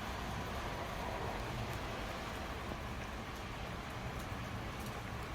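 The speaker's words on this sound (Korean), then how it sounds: "비가 막 떨어지고 있습니다" Rain pours steadily onto a rooftop garden of potted succulents, a dense, even hiss of drops on plants and surfaces that holds without pause and with no talking.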